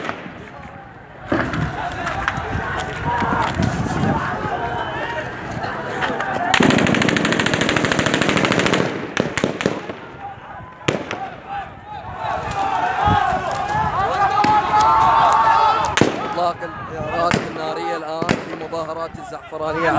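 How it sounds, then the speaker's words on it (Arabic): Gunfire is aimed at protesters in a street in Zafaraniya, with repeated sharp cracks and rapid bursts, some loud and close, over crowd noise and shouting voices. "إطلاق العيارات النارية على المتظاهرين في مدينة الزعفرانية."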